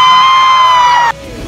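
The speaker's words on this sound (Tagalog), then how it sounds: "Grabe ang sigawan ng mga tao na magkalapit na ang dalawa." A crowd at a mall show in Robinson Naga screams and cheers loudly for Jericho Rosales, high shrieks and whoops in a continuous roar that cuts off abruptly near the end.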